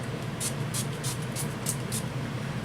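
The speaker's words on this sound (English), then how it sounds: "I'm just spraying my whole face" Six quick hissing spritzes from a NYX setting spray bottle sprayed on a face, evenly spaced, heard close up over a steady low background hum.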